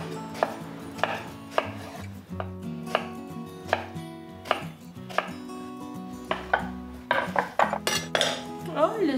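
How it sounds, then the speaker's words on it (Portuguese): A knife chops vegetables, including a bell pepper, rhythmically on a cutting board, sharp regular taps close by, with occasional clinks of dishes and utensils. "Vou continuar picando aqui os negócios"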